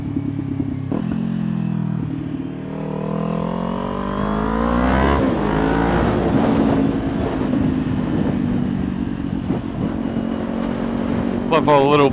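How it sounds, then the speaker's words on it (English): Parallel twin motorcycle ridden on a wet country road, engine droning and revving up and down with faint exhaust crackles, close and loud beneath a rider talking in wind noise. "Love all the little pops and crackles from this exhaust."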